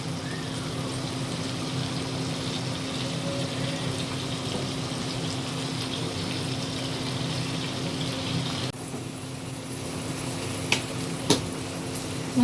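Fish oil frying in a pan gives a steady, close hiss and crackle that runs unbroken, with a few sharp pops near the end and no voices.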